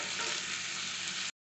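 Chopped tomatoes hit frying onions and garlic in a pan for a vegetarian kari kuzhambu, giving a steady, loud, close sizzle that holds evenly for over a second and then stops abruptly.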